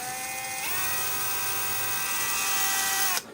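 DEVETECH CS-45 compact cordless screwdriver motor running steadily at first speed, a close, continuous whine that steps up in pitch partway through and then cuts off abruptly at the end.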